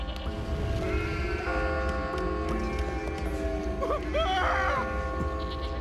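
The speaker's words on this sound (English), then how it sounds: "What's with all these damn sheep?" Sheep bleating in the video game Catherine, several wavering bleats standing out midway over a steady bed of game music and ambience, with a voice talking alongside.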